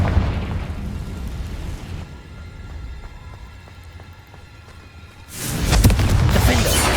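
A Confringo spell in Hogwarts Legacy, a low rumbling burst that fades into quieter game ambience and then swells into a heavy booming explosion.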